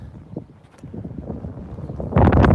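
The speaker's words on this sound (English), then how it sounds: "Really windy today." Gusty wind buffets the microphone in uneven bursts that grow stronger, ending in a loud, rumbling blast.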